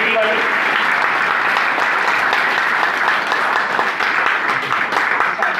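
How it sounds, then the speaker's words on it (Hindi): A seated crowd at an indoor gathering gives sustained, dense applause, loud and even for the whole stretch, with a voice faintly audible beneath the clapping. "एक बार खुद के लिए ताली बजा सकते हैं क्वालिटी वाली।"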